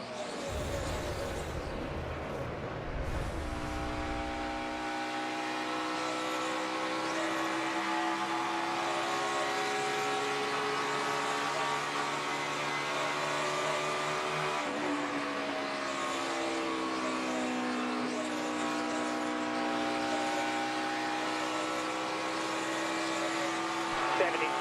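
Austin Dillon's Coca-Cola NASCAR stock car heard from onboard during the 2017 Coca-Cola 600, a loud, steady, high engine drone that holds its pitch, then dips and climbs again through gear and speed changes.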